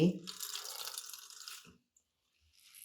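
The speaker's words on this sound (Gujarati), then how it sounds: "પ્રેશર આપી અને દબાવી અને બધું પાણી નિતારી દઈશું" Grated radish wrapped in a clean cloth is pressed hard, giving a close, hissing trickle of water that runs for under two seconds, then stops into near silence.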